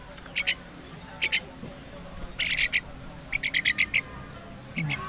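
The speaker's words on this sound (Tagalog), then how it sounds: "Yan, yung mga gutumin nating mga ibon." Pet birds, hungry and waiting near their cage, give short bursts of high chirping calls in repeated clusters of quick notes, fairly close, over low background rumble.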